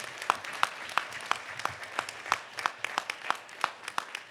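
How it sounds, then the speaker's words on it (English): An audience at an NAACP hearing in Memphis, Tennessee claps for the presenters, a thin scattering of separate, evenly spaced handclaps that stays fairly quiet and steady. "Give all the presenters a round of applause."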